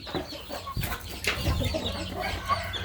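A chicken clucks close by with short, irregular calls over a few seconds, amid light farmyard background noise.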